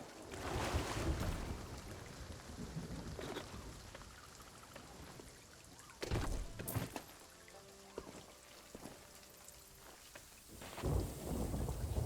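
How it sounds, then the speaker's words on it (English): Rain and rolling thunder from the game Sea of Thieves, with a steady hiss of rainfall throughout and loud thunder cracks and rumbles near the start, around the middle and at the end, plus some quieter tonal game sounds. "Because it's raining."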